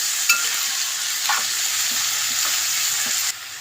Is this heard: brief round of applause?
no